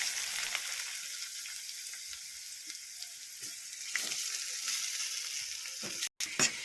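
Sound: grated bottle gourd frying in ghee in a kadai

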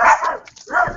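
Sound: dogs barking

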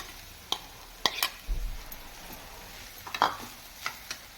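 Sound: young jackfruit vegetable stirred and frying with onions in pan

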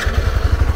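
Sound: motorcycle engine

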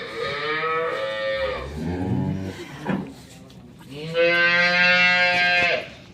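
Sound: cow mooing

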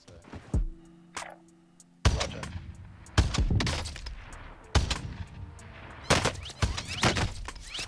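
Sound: gunfire in the video game Warzone

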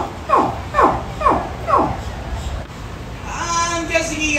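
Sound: human imitating a baby alligator calling its mother

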